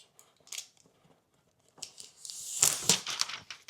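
Plastic film is peeled off a dbrand Prism screen protector on an iPhone Air, a few faint crinkles and then a louder crackling, tearing pull lasting under two seconds, close and otherwise quiet.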